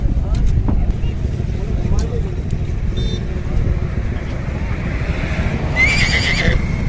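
A horse neighs loudly near the end amid the bustle of the Nagaur livestock fair, with crowd noise, passing vehicles and hoof sounds filling the background throughout.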